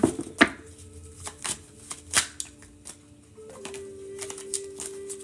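Cards are shuffled in a series of quick riffling bursts and taps, close up, with a faint steady hum underneath.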